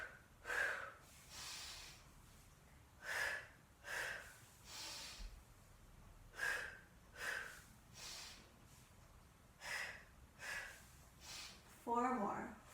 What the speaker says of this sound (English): Exhale, exhale, inhale to switch.